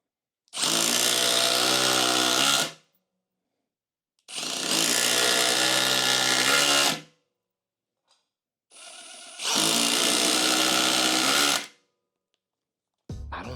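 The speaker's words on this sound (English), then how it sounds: "Milwaukee's top speed, speed 3. We have 3-inch drywall screw now." A Milwaukee M18 Surge hydraulic impact driver at top speed sinking 3-inch drywall screws, three separate buzzing, rattling bursts of about two seconds each with short silent gaps, close and without speech.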